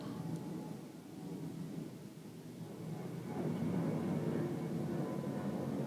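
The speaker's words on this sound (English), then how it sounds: "A lot of Southwest planes going over our house tonight." Southwest airliners pass low over a house near an airport at night, a continuous low rumbling roar that swells toward the end, with no talk over it.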